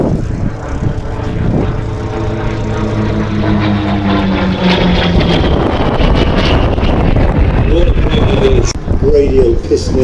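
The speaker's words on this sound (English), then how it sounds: "Radial piston engine, isn't it?" Radial piston engine warbird fighter flying past at an airshow, a loud propeller drone that swells and shifts pitch as it passes, with wind buffeting and voices talking over it.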